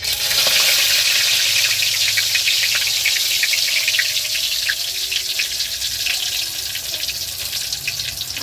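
Bay leaves and dried chillies sizzling in hot oil for a fish curry, a loud continuous crackling hiss that holds steady throughout, slightly easing toward the end, with no talking.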